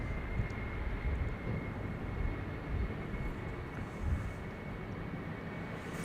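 A KLM airliner departing Amsterdam Schiphol Airport, bound for Switzerland, makes a steady, fairly distant jet rumble with a faint high whine that holds for the whole stretch.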